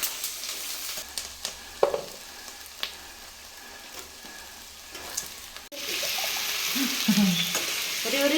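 Tempering spices sizzle in hot oil in a village kitchen, a faint crackle that rises into a louder, fuller fry after a sudden addition. Voices talk briefly in the background.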